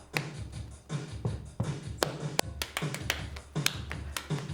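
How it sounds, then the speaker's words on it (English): Students clapping an improvised rhythm pattern, sharp hand claps in an uneven sequence of single hits and short clusters, close and clear with no talking. "they all improvised their own clapping"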